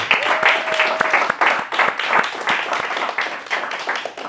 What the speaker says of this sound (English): Give one big round of applause to all of our winners.